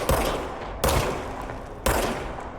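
Three loud, close gunshot blasts from the video game Control, each a sharp broadband crack with a decaying tail, spaced roughly a second apart.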